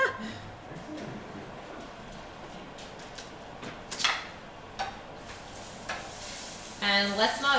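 Garlic sautés lightly in a pan, a faint, steady sizzle with occasional utensil clicks and scrapes, and a voice briefly heard near the end.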